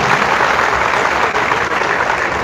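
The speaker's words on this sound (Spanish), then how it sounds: "Un aplauso pues para el hermano Gilberto." Dense, steady applause from a church audience greeting a speaker, a continuous wash of clapping hands throughout with no break, loud and close.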